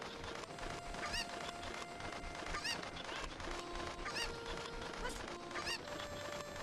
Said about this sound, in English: throwing both chickens to the other side